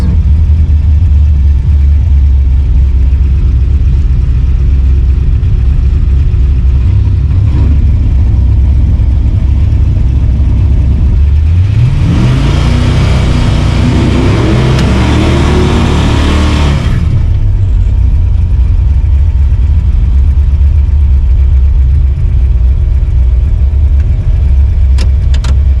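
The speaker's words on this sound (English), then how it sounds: "So this time I got the nitrous on and tailgate is closed." An LS-swapped Chevy S10 truck makes a nitrous race pass, its engine holding a steady rumble before surging into a loud, rising roar for several seconds and then dropping back to a lower drone.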